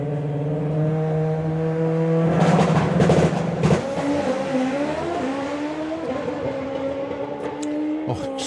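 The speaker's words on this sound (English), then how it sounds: "They really do make the tiniest of adjustments to get the bike facing exactly where they want it to before they hit the throttle." At a FIA/FIM drag racing event, a drag racing motorcycle revs hard and loud, its engine tone climbing and shifting as it launches and pulls away, with a harsh burst of noise midway and a sustained roar after it.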